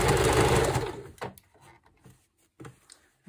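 A sewing machine stitches through the fabric of a slow-stitch journal cover, running loud and steady for about a second before stopping, followed by faint clicks and handling noises.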